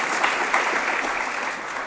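An audience applauds a team at an event, a dense, steady wash of clapping from many hands lasting the whole moment with no voices on top.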